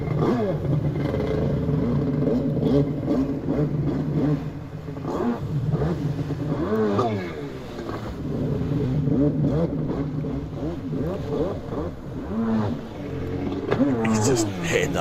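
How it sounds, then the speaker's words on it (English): Freestyle motocross motorcycle at a British freestyle championship, engine revved in repeated throttle blips that rise and fall over steady loud noise, with a commentator talking over it throughout. "He's just hitting the throttle for fun right now."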